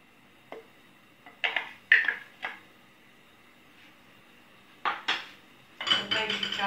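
A small frying pan set down and handled on a kitchen counter while cooking supplì, Italian rice croquettes with meat: several sharp metallic clanks and knocks in separate bursts, close and fairly loud, with quiet gaps between.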